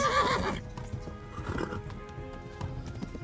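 A horse in the video game Kingdom Come: Deliverance gives a short loud neigh at the start, then hooves clip-clop steadily at close range.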